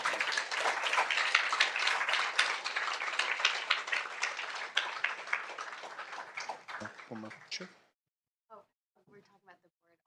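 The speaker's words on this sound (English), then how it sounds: "Please join us in giving one more big round of applause for Dr." An audience at a school board meeting gives sustained applause that gradually thins and stops, after which a voice starts speaking.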